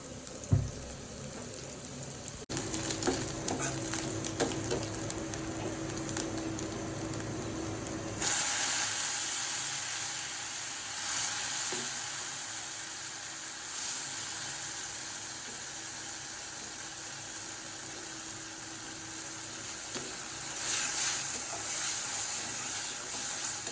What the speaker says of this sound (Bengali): এখন এগুলো ভেজে নিই